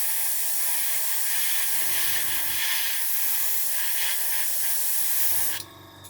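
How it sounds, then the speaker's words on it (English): Airbrush spraying Outlaw paint onto a model aircraft fuselage gives a steady close hiss throughout, with a low compressor hum cutting in twice underneath. "That's why I sprayed this back of the fuselage in it, in the grey."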